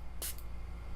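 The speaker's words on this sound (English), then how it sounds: "we can spray that for a little bit of texture" A quick spritz from a spray bottle misting water onto a watercolor landscape painting, one short hissing burst followed by a tiny second puff, close and faint against quiet background hum.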